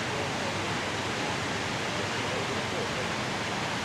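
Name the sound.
waterfall in Oregon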